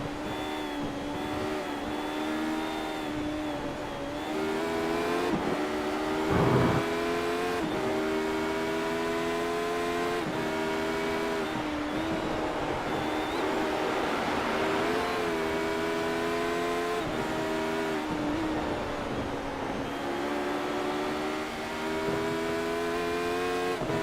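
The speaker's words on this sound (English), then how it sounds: "You heard him really having to feather that throttle through the 1st section." Onboard engine of a Radical race car lapping Lime Rock, a loud, buzzy, continuous drone whose pitch repeatedly rises and dips as the throttle is feathered, with no voices.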